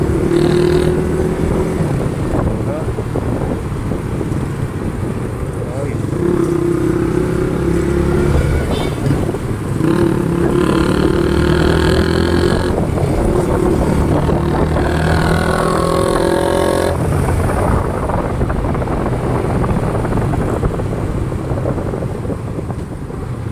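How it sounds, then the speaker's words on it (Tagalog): Loud, raspy motorcycle exhaust roars close by amid engine noise on Osmeña highway traffic, a steady continuous drone with rising and falling revs throughout. "Naiingayan ako sa kanyang tambutso, parang tumisiksik sa loob ng tainga ko"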